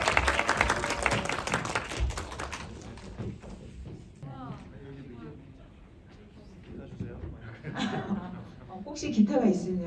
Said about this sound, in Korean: 큰 박수로 맞이해주세요.